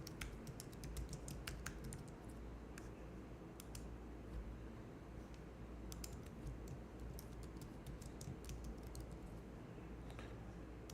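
Keys clatter on a computer keyboard as text is entered in InDesign, making quiet, quick irregular clicks with short bursts and pauses over a soft fan hum. No one talks.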